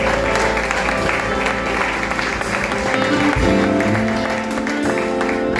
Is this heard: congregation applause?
yes